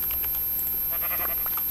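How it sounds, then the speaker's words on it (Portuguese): Minecraft sheep bleating in short repeated calls alongside light keyboard clicks, over a constant electronic hum. "Ah, ovelha! Ovelhas!"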